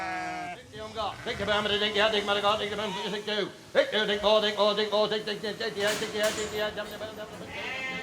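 Sheep bleat over and over, their wavering, nasal cries overlapping close by in a continuous flock chorus.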